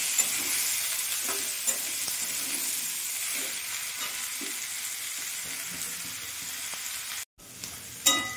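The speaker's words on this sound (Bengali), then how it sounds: "এটা আমি হালকা নেড়ে চেড়ে একটু ভেজে নেব। এঁচোড়টা আর আলুটা" Jackfruit and potato pieces fry in hot oil in a wok, a steady soft sizzle with scraping stirs and scattered ticks, briefly cutting out before a final clatter.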